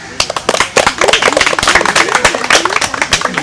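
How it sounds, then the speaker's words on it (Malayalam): A group of children applauding a correct quiz answer, a burst of brisk, loud, overlapping claps sustained for a few seconds at close range. "അപ്പോൾ മിലന് നല്ലൊരു ക്ലാപ്പ്"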